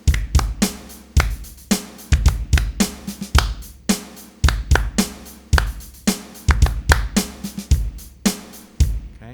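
A basic looped drum beat plays on its own: punchy kick and snare hits in a steady pattern with ticking hi-hats between them, loud and close, repeating evenly with a fill.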